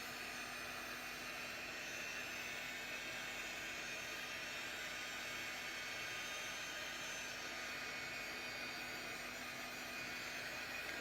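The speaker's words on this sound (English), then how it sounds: "So at this point our heat gun will get pretty warm. So just kind of keep moving it around." Heat gun blowing hot air over a textured craft card, a steady, even whine and hiss held for the whole span at moderate level.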